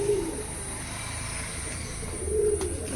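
Breeder pigeons give two soft low coos, one at the start and one near the end, over a faint steady background hum with no talking.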